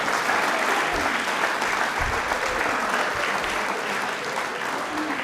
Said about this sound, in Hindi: तालियां अपने लिए एक बार जोरदार बजा दीजिए